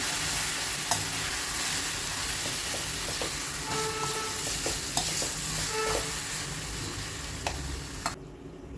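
Red pumpkin jhunka cooks in a pan while being stirred and mixed: constant sizzling hiss with a low rumbling undertone, occasional utensil clicks and scrapes against the pan, close up, stopping abruptly near the end.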